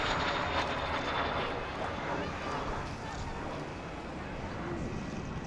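Meteor jet aircraft performing a solo display at the Cotswold airshow in 2011, a steady broad roar of jet engine noise filling the whole clip, fairly loud and continuous, with a commentator's voice running underneath.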